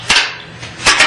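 Nuts on a Shopsmith auxiliary table being tightened, heard as two sharp, close metallic clicks, one near the start and a doubled one near the end, with quiet shop air between.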